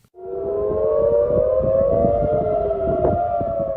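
Air raid sirens wail across central Tel Aviv, rising within the first moments into a loud, sustained layered tone, with several overlapping sirens slowly drifting in pitch.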